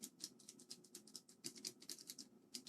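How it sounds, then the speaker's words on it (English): Clicky Cherry MX Blue switches on a keyboard are pressed in a fast, uneven run of crisp clicks, quiet and close, like steady typing with nobody speaking. "Clicking away, Cherry MX Blue switches should be clicking."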